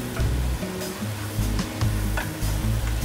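Rice frying in oil with colorau for a red-tinted rice, a steady close sizzle with scraping stirs and soft clunks of a spoon against the pot, no talking.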